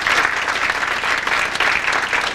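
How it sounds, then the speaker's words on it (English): Staff at an all-staff meeting give a dense, loud round of applause, many hands clapping steadily throughout with no pause. "Let's give them a round of applause."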